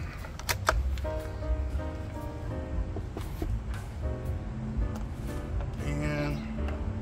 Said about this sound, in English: Let me pull back this bolt on this monster.